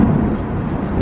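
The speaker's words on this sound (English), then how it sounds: "I got the thunder in the background and everything" Deep thunder rumbles steadily behind falling rain during a storm, a low continuous roll that stays loud throughout the short moment.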